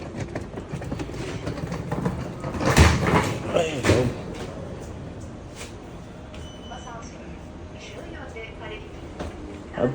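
An airport elevator arrives and its doors slide open with a rumbling, whooshing swell around the middle, set against a busy hall ambience with voices.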